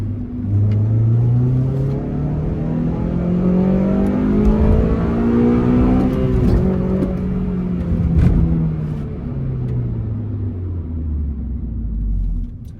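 A car engine revs up and down through a downshift, loud and close, with the pitch rising and falling in sweeping arcs over a steady rumble and no talking.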